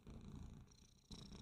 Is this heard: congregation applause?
no